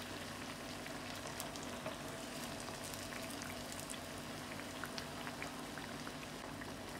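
Bread slices for shahi tukda fry in a pan with a dense, even sizzle and crackle. It is faint but continuous, with scattered tiny pops throughout.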